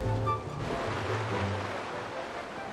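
A Rocket League car drives through water in a video game, a continuous rushing splash and wash with a low engine hum beneath it.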